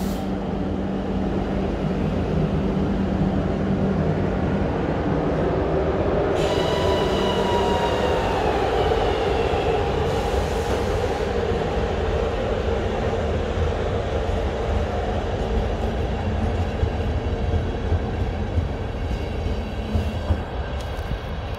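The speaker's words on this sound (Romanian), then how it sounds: "Trenul Regio 2028 Timișoara Norzam, tras de către Bobică 68." Regio 2028 passenger train for Timișoara passing close by at a station, a loud continuous rumble of wheels on rails with drawn-out metallic squealing tones rising partway through and steady clatter to the end.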